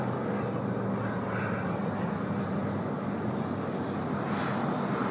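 United flight 842, an airliner, takes off from runway 16 right at Sydney Airport, its engines a continuous, dense roar with deep low rumble held throughout, with no voices.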